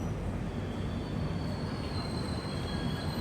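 The Pinakini Superfast Express leaving Tenali junction, heard from inside as a steady, close roar of carriages rolling over track with a thin, sustained metallic squeal above it, alone and without speech.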